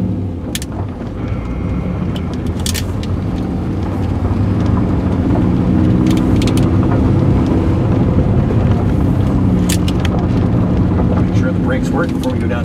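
A V8-swapped Porsche 944 drives off with a loud, deep engine rumble that swells after a few seconds and holds, mixed with rattles, clicks and cabin wind noise.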